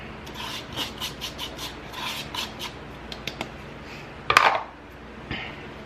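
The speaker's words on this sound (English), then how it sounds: "I'm going to mix in the brown sugar and the white sugar, or granulated sugar" Brown and granulated white sugar stirred into melted butter in a bowl, with gritty scraping and rubbing strokes in irregular bursts and one louder clatter of the utensil against the bowl, no talking.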